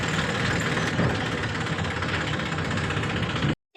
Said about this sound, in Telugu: అదిగోండి ట్రాక్టర్ అయితే తీసుకెళ్తున్నాం అన్నమాట ఎన్నులు లోడ్ చేసుకొని రావడానికి